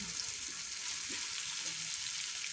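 Mango pickle frying with curry leaves in a pan, giving a steady, even sizzle that holds without a break for a few seconds and has no talk over it.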